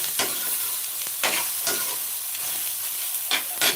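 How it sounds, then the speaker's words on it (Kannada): Ridge gourd palya frying and being stirred in a pan, with a steady close sizzle and a few sharper scraping strokes of the spoon across the pan. "ಸ್ವಲ್ಪ ಫ್ರೈ ಆಗಲಿ ಸ್ನೇಹಿತರೆ"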